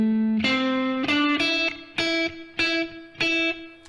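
An electric guitar with some distortion plays the last two bars of a Rockschool Grade 3 piece as a sequence of choppy, rhythmic chord stabs with short gaps, loud and close.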